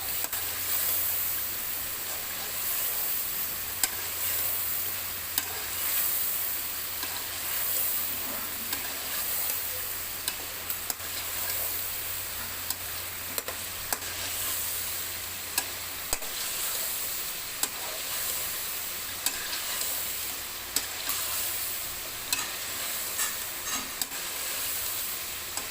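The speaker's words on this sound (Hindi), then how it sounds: "अब इसकी भुनाई करेंगे खूब अच्छी तरह बेहतरीन करके" Chicken korma stir-frying in a pot, a steady close sizzle and hiss running throughout with occasional scrapes of stirring, no talking.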